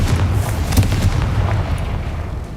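Confringo blasting spell in Hogwarts Legacy, a loud, deep explosive boom with a rumbling low-end body that sustains and slowly tapers off.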